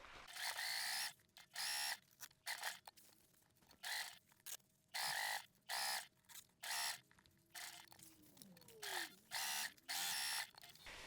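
Sewing machine stitching along the top and side edges of a fabric backpack in bursts of rapid whirring, stopping and starting about a dozen times, close and clear with no talk.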